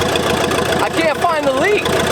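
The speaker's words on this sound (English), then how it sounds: "The idle just smooth right out." A cheap old bulldozer's diesel engine idles nearby with an even, low rhythmic chug, steady throughout while a person talks over it.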